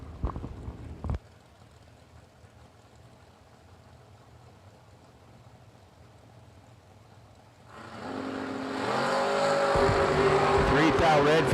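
Bob Jones's Chevy II drag racing car launches down the strip, a distant low rumble that swells into a loud, roaring run, with a sharp burst at the very start.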